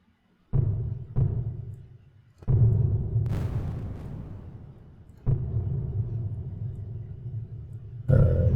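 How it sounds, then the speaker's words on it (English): A deep, booming synthesized kick drum hits several times, each strike followed by a long, cavernous reverb tail that fills the space before the next hit. "I'll go ahead and put a reverb on it."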